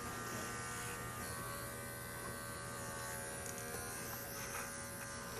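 A Wahl Bravura cordless pet clipper trims fur inside a smooth-coated dog's ear, a faint, steady electric buzz running continuously at close range.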